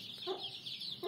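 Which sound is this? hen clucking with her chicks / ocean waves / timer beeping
hen clucking with her chicks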